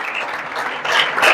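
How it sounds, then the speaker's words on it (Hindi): Applause from an audience at a selection felicitation ceremony greets a candidate chosen as an auditor, a short steady patter of many hands that swells louder toward the end. "जोरदार तालियों के साथ आप स्वागत करते रहिए"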